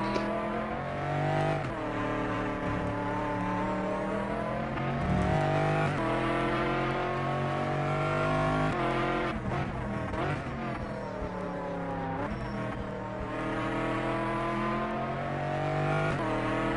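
An endurance race car engine in a video game, heard onboard, revs loud and close through repeated climbing gear pulls with sharp shift drops, running continuously for the whole stretch.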